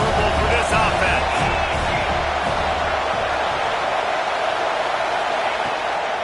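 A college football stadium crowd roars loudly and continuously during a Notre Dame versus USC game, a dense wall of noise with scattered whoops, while a commentator talks over it.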